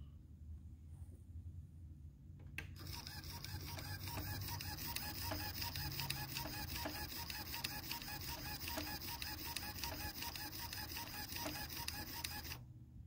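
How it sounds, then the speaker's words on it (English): Pioneer CLD-D704 laserdisc player failing to eject: after a click, a steady mechanical whirring with rapid repetitive ticking grinds on for about ten seconds, close and alone. "This is what my Laserdisc player is doing."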